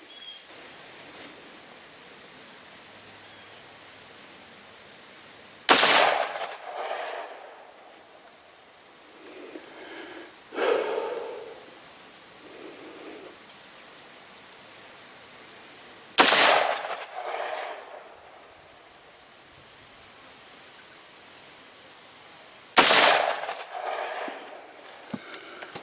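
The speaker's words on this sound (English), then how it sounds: "I'm only at about 25 yards, and I'm going to take a few rounds here" Rifle fired at a 25-yard target outdoors: three loud, sharp single shots spaced several seconds apart over constant insect chirping.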